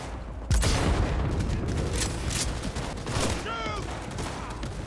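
Gunfire in the video game Cyberpunk 2077: a loud opening shot followed by a rattle of rapid shots and bursts, with electronic whines and game effects layered over a busy combat background.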